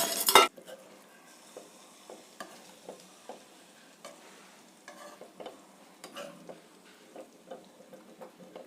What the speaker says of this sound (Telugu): ఆయిల్ పైకి వచ్చిన తర్వాతనే చింతపండు రసం అయితే పోస్తున్నా